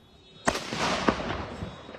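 Explosions and fireworks-like blasts erupting across Puerto Vallarta amid unrest: a sharp loud boom followed by a sustained crackling roar, with a second burst about half a second later and scattered pops trailing off.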